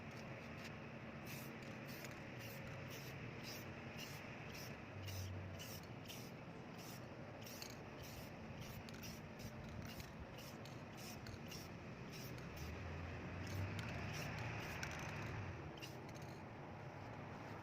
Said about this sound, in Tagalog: So, hiniga ko yung artwork natin, to spray it vertically.